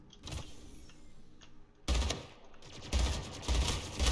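Rapid bursts of gunfire from a weapon in the arena shooter Splitgate, played in low gravity with an infinite jetpack: a softer opening burst, then louder repeated volleys from about the two-second mark, close and punchy, with no talk.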